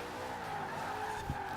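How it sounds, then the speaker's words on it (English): A Ford Woody Wagon drifting in Forza Horizon 4, a continuous loud tire squeal blended with engine tone, sustained throughout with a brief thump near the end. "I think it's just a case of how much can I drift this car at this point."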